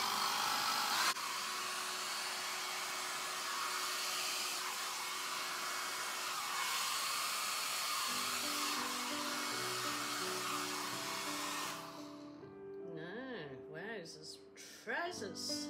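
A hair dryer blows loud and steady for about twelve seconds, blasting a surface clear during a balloon-decorating session, before cutting out to quieter noises and squeaky rubbing at the end.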